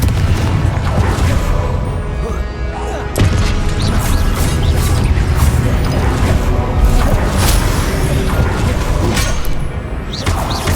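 Confringo fire-blast spell from the Hogwarts Legacy video game, a run of loud booming, crashing impacts over dense, continuous game combat noise, with one especially sharp hit near the middle.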